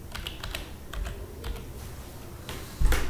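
Fingers tap out a steady run of keystrokes on a computer keyboard, close and clear, with a slightly louder burst of presses near the end and no voices.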